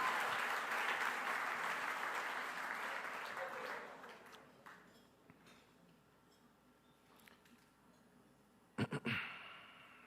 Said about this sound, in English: You guys clap it up for my family.